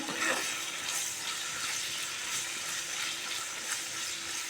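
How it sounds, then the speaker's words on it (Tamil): Tomatoes fry lightly in a pan for coconut chutney, giving a soft, steady sizzle with faint crackles. It is fairly quiet and carries on evenly throughout. "இந்த தக்காளியை லைட்டாக ஃப்ரை ஆகட்டும்"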